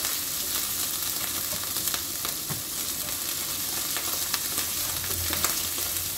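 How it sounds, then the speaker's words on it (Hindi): Steady sizzling of garlic lightly sautéing in a hot pan, a constant crackling hiss with small pops and occasional stirring clicks. "इसको ब्राउन नहीं करना, हल्का सा सौते करना है।"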